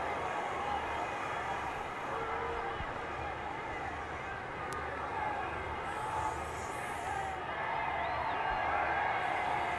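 A large stadium crowd at an Argentina versus South Africa rugby match murmurs and swells with mild cheering after Emiliano Boffelli's long-range kick, distant and diffuse under a commentator's continuous voice.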